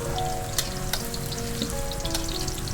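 Chicken pieces sautéing in a hot pan for a chicken-with-pineapple dish, a continuous crackling sizzle with a few sharper pops and faint stirring scrapes.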